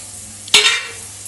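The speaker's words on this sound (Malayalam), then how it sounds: "ഇത് ഉള്ളി ഇതുണ്ടല്ലോ തേങ്ങ ഇതൊക്കെ ആദ്യം ഫസ്റ്റ് ഇതിലിടുക നമ്മൾ ആ ഓയിലേക്ക് ഇടുക" Onion and coconut hit hot oil for a drumstick-leaf thoran with a sudden loud splash of sizzle that surges, then fades to a softer crackle within a second, up close.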